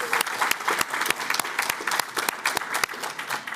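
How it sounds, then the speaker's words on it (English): Applause from an audience at an opioid settlement community event, a dense run of sharp claps at moderate volume, steady for several seconds with no talk over it. "let's give her another round of applause because she was fantastic"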